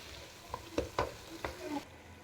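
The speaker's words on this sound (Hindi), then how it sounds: "मसाला फ्राई हो रहा है, साथ ही हम इसमें जैसे आलू कटिंग किए थे छोटे स्लाइस में वो वाले आलू डाल देंगे।" Masala spices and small potato slices frying in a pan for kadhi pakora, with a few soft scraping stirs and light sizzling at moderate volume, then quiet.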